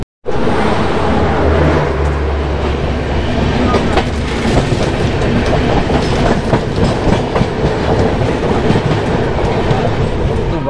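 Passing train heard from aboard the Maharashtra Sampark Kranti Express, a loud continuous roar with rhythmic clickety-clack of wheels over rail joints and a rumbling low drone throughout.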